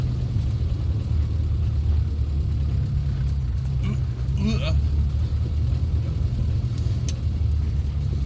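A modified classic Mini on a poorly surfaced road into an airport, its engine and tyres making a steady, loud low rumble inside the cabin, with a voice talking over it.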